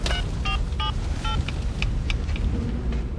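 A telephone number is keyed in, a quick series of short touch-tone beeps in the first seconds, heard over a low continuous rumble.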